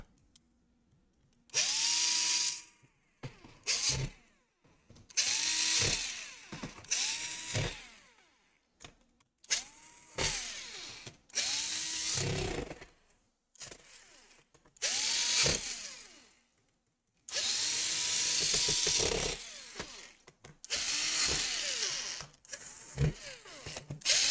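A power screwdriver set to its lowest torque backs screws out of a Lenovo Legion Y545 laptop, whirring in repeated short bursts with brief pauses between each screw, close and clear.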